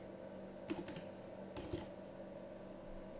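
Fingers tap on a computer keyboard while entering a value in image-editing software, a couple of short clustered clicks close by over a low steady background hum.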